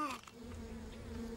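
A steady insect drone hums throughout, close and continuous, with a low rumble underneath.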